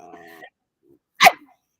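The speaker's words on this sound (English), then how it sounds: "it doesn't make it better that she is barking either" A dog gives one short, sharp bark close by, following a brief stretch of a voice.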